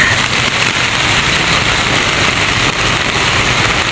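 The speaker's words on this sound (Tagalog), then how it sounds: "malakas talaga ang ulan dito" Heavy rain pours down on a road between Roxas, Dipolog City and Dapitan City in a dense, constant hiss with no break, loud and close.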